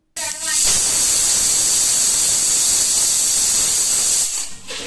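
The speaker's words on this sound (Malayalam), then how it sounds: "ഞാനിപ്പോൾ ഇത് കുക്കറിൽ ബീഫ് റെഡിയാവാനായിട്ട് വെച്ചിട്ടുണ്ട്." A pressure cooker of beef on the stove releases steam in a loud, close, continuous hiss that starts suddenly and holds steady for several seconds before easing.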